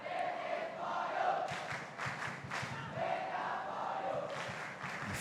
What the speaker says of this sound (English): The crowd trying to get behind their team